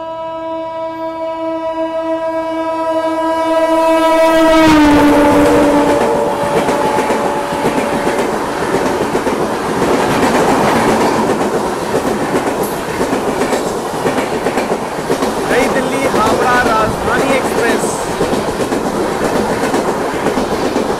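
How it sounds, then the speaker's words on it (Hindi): Howrah Rajdhani Express train sounding a long loud horn as it approaches, then thundering past close by with continuous rumbling and rhythmic clatter of wheels over rail joints. "ये थी दोस्तों अपनी हावड़ा राजधानी एक्सप्रेस,"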